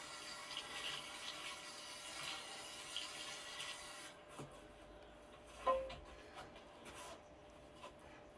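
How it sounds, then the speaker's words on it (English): A garden hose washes soil off the roots of a hosta plant, a steady hissing spray for about four seconds, then quieter trickling with a small knock. "you need to wash the soil off the plant and then water"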